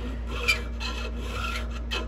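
Square file rasping along a chainsaw chain, a steady run of even scraping strokes close by, each pass a gritty metallic rasp with a slightly sharper stroke near the start.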